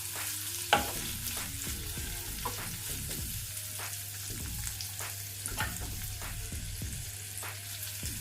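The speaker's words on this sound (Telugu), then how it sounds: "ఇప్పుడు ఇందులో ఒక చిన్న టమాటా కట్ చేసుకొని వేసుకోవాలి." Chopped medium tomato frying in a pan for gongura rice, a steady sizzle under repeated rhythmic scrapes and taps of a spatula stirring, close and clear with no voices.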